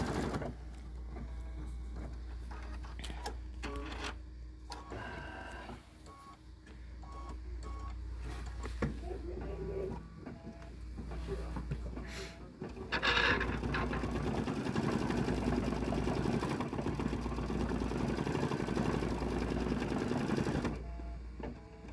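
An embroidery machine stitches a design in a steady mechanical whir with rapid needle clatter and a low motor hum, running continuously up close and getting slightly louder and busier partway through.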